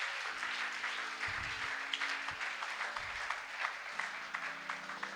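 A church congregation breaks into continuous applause at a French-language worship gathering, a dense, sustained wash of clapping with a low background hum beneath it.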